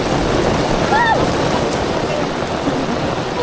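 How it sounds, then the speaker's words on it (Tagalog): Heavy rain pours down at Bulusan Lake outdoors, a loud, dense, continuous hiss with faint voices briefly audible in the background. "we thank you for all the rain"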